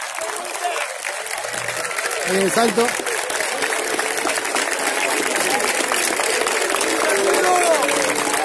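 A crowd at an under-17 football championship award ceremony claps steadily and loudly throughout, as someone speaks Spanish over the applause and the cheering.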